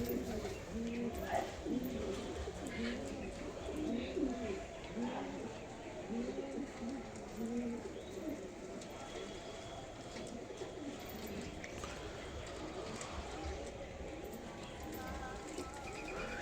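Lotan pigeons coo in low, repeated burbling calls close by, strongest at first, while someone talks over them.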